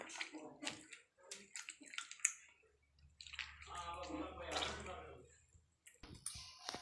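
Butter lumps are rubbed and washed by hand in a bowl of water, giving intermittent splashes, sloshes and wet squelches, with a short steadier swirl of water midway.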